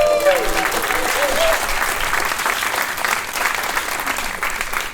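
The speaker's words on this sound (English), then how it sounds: "Can we get a round of applause?" Audience applause at an AI education talk about a youth hackathon: a dense, loud wash of clapping from a crowd, steady throughout and gradually easing toward the end, with brief voices at the start.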